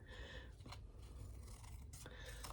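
Scissors snip down one side of folded fabric, a few soft scraping cuts close by with short sharper bursts near the end.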